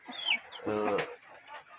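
Indonesian kampung chickens kept on a small home farm cluck in a short burst, a cluster of close, throaty notes with a faint higher bird call just before.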